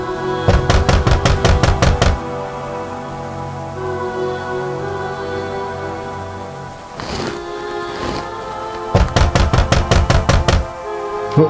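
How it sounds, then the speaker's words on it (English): Rapid, loud knocking on a hotel room door comes in two insistent bursts of quick raps, separated by a stretch of quieter background sound. "Who the fuck is it knocking on my door like that?"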